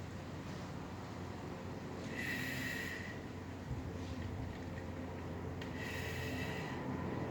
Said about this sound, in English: breathing on your own